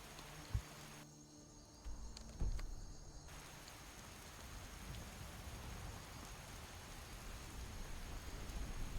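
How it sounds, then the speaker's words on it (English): Steady rain pours in Skyrim, a constant loud hiss with a couple of low thumps near the start, and no voices. "It's always raining when I play these games."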